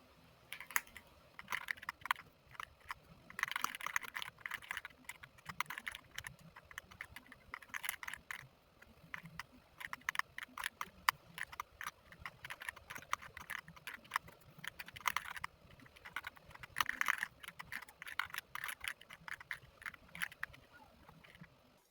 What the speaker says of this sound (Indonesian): Jadi saya akan ketik ulang di bagian ini.